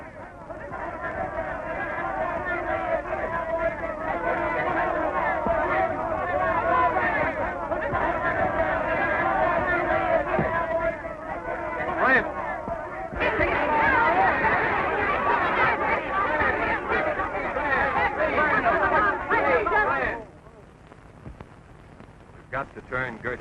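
Agitated crowd murmuring and shouting in a Western film, a dense babble of many voices with louder calls rising out of it, sustained for most of the stretch before dropping away near the end.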